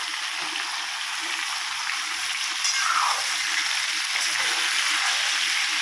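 Food frying in a pan gives a steady, bright sizzle that continues throughout, with faint stirring touches under it, close and fairly loud.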